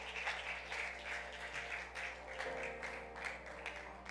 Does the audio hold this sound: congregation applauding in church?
yes